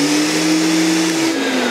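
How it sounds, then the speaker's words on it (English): Electric sander running with an attached vacuum cleaner during tower room restoration: a loud, steady motor whine and airflow roar with a constant hum that dips slightly in pitch toward the end. "if I start my sander, my vacuum cleaner will start"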